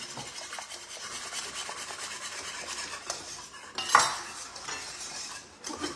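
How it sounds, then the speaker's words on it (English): A whisk beating rapidly against the sides of a bowl, a quick continuous metallic scraping rhythm, close and moderately quiet, with one brief louder clatter. "But you don't want to stop whisking for sure."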